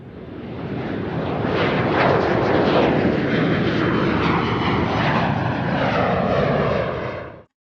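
Jet aircraft sound effect: a loud, broad roaring whoosh swells in, holds steady with shifting tone for several seconds, then cuts off abruptly.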